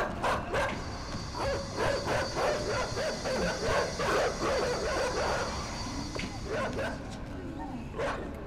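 Dogs in the video game Inside bark and yip in a rapid, excited series over a low game ambience, with someone talking over the barking.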